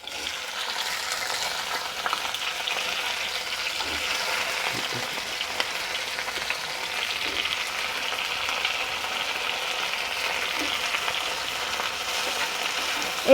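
Garlic and yard-long beans sizzle steadily in hot oil, a continuous close crackling hiss with light stirring scrapes throughout, no voices.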